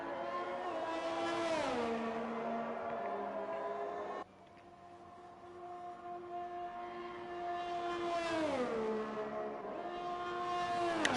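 A race car onboard at Spa-Francorchamps, taken flat out through Eau Rouge and Raidillon in Belgium: a loud, continuous engine note holds at high revs, with a brief gear-change dip and rising, falling pitch through the corners. No talk.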